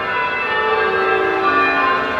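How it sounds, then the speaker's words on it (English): Bells ringing at 6 p.m., a loud, sustained metallic tolling with rich overlapping tones that fill the air without pause, with no talking. "Got all kind of bell action going. 6 p.m. bell action going."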